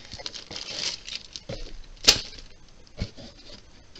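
Soft crinkling and rustling of plastic LEGO parts bags being pulled from a box, with scattered light taps and one sharper crackle midway, close and quiet.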